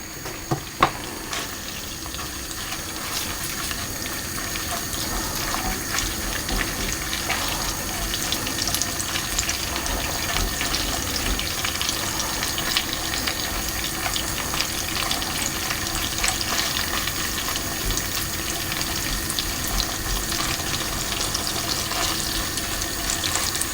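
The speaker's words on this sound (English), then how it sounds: "I'm going to put about half of the meat into the pan, and I'm just going to fry that for a minute on the one side" Beef pieces for stroganoff frying in a hot pan, a continuous loud sizzle and crackle with a few sharp spits at the start, steady and close throughout, no voices.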